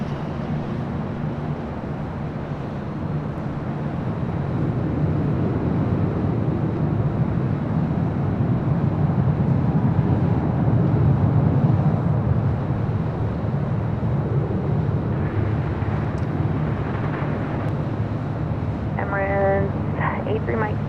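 A Delta jet airliner on its takeoff roll from runway 24 left at LAX gives a steady, distant broadband roar that swells slightly and holds, mixed with wind noise and faint background voices.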